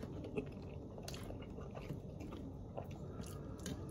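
Crab egg curry, a Thai-style dish, being eaten nearby, with soft continuous chewing and biting sounds, occasional wet crunches and scrapes, steady and close, no talk.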